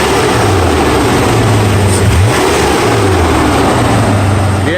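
A Mercedes S600 with a freshly repaired throttle control module and an exhaust leak revs up under acceleration, a loud, close engine drone rising in pitch in repeated surges over a steady roar, with a hot engine and a loud cooling fan.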